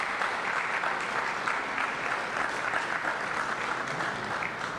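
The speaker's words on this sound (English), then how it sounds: "A round of applause, please, ladies, for all of the women here today." Sustained applause from an audience of women at a women's empowerment event in Guyana, steady and dense clapping filling the room without pause for several seconds.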